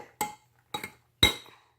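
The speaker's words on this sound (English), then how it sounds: "So I'm just gonna mix the shaving cream and the glue together." Large forks mixing shaving cream and glue for slime knock against the bowl in three separate sharp clinks, each with a short ringing tail, close and alone.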